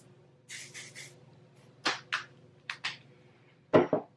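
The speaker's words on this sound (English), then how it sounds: "So then I will go in again and spray." Hairspray spritzed onto freshly curled hair: a short run of quick hissing spray bursts, then paired bursts, close and fairly crisp against near silence.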